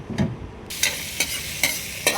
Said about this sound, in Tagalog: naggigisa kami ng sibuyas muna at bawang